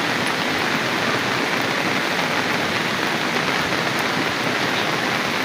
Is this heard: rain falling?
yes